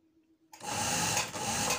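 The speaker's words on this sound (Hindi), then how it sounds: "मैंने कितना रखा है अभी सिलाई करके आपको दिखाती हूँ।" A sewing machine stitches a shirt sleeve, starting abruptly after a brief quiet moment and then running as a steady, close, continuous mechanical whir.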